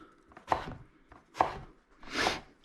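A knife chops vegetables for ratatouille on a cutting board: three distinct, close, fairly quiet strikes spaced about a second apart, with no talking.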